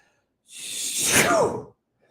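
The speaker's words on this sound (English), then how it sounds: "you're going to shoot all of your air out like you're throwing a spear" A single forceful breath pushed out through the mouth, a breathy whoosh lasting just over a second that rises and then cuts off.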